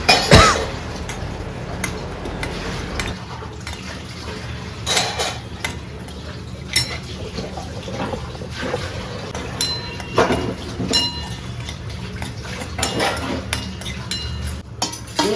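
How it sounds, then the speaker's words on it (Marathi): Semolina roasting in ghee in a kadai, heard as scattered metallic clinks and scrapes of a spoon against the pan over a low background, with irregular sharper knocks throughout and no talking. "तर मग आधी मी रवा भाजून घेते छान तुपामध्ये."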